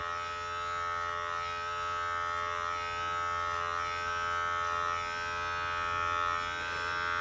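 An electric beard trimmer fitted with a long guard buzzes steadily and close up as it cuts through beard hair, a constant high motor whine with no voices.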